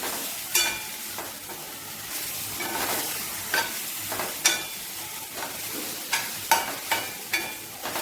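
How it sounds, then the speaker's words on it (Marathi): Cluster beans frying in oil in a pan, a steady soft sizzle broken by repeated sharp scraping clinks of a spatula stirring at irregular intervals, close and fairly quiet. "अशा प्रकारे ही तेलामध्ये फ्राय करून घ्यायची"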